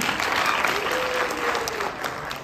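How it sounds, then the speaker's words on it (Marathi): Audience at a live stage show in Satara applauds loudly, a dense steady burst of clapping from a large crowd, close and continuous throughout with no talk. "जोरदार टाळ्या अभिजित साठी."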